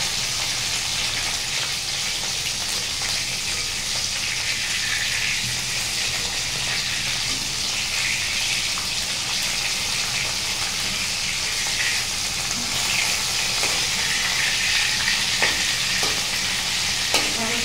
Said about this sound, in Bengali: আস্তে আস্তে সুন্দর করে মাছটা ভাজা হবে।